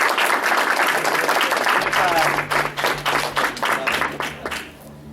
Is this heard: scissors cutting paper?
no